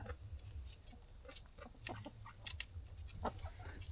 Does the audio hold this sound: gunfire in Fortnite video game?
no